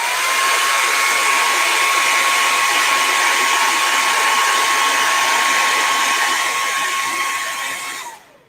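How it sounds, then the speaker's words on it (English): A hair dryer blows loudly and steadily at close range with a high whine, then cuts off near the end. "Let me just bring a hairdryer in real quick."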